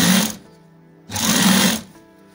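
An electric sewing machine stitches a langot in two short, close bursts of rapid whirring and clatter, separated by a brief quiet pause.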